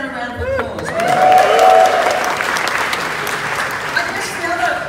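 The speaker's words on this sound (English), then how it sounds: "Give that a round of applause." Sustained audience applause with some cheering fills a Sydney event hall at the Museum of Love and Protest, building and peaking early before settling into steady clapping.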